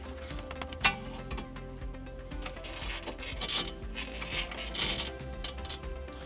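Close rubbing and scraping noises as a trailer wiring power wire is pushed and dragged under plastic trim in a 2014 Mazda CX-9, with a few light knocks and clicks throughout.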